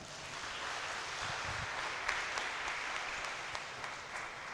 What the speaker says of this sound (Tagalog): Bigyan ba natin siya isang malakas na palakpak?